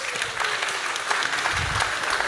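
An audience claps steadily at a performance, a dense and even wash of applause with no cheering or voices rising above it.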